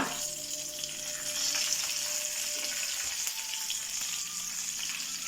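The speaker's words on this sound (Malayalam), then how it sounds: "വെളിച്ചെണ്ണ മൂത്ത് കഴിഞ്ഞാൽ നമുക്ക് വറുത്തിടാൻ വേണ്ടിയിട്ട് കുറച്ച് കടുക് ഇട്ട് കൊടുക്കാം" Mustard seeds, dried red chillies and curry leaves sizzle in hot coconut oil for a moringa theeyal tempering, a steady, close, crackling fry hiss that continues without a break.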